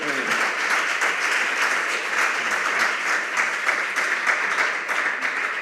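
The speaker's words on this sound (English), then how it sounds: "Another round of applause for them all." Steady applause fills the hall for school quiz contestants at a junior high maths and science quiz quarterfinal, dense even clapping throughout with no voices over it.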